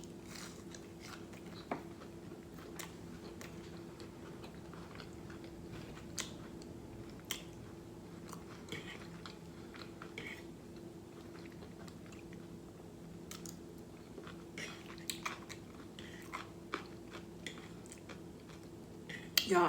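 Fried shrimp eaten up close in a mukbang, soft crunchy bites and wet chewing repeated at an irregular pace, fairly quiet, with faint clinks of cutlery and dishes.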